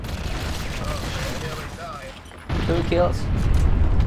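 A grenade detonates in the GoldenEye video game, a sudden broadband blast cutting in midway and rumbling on loudly beneath a voice talking over the game.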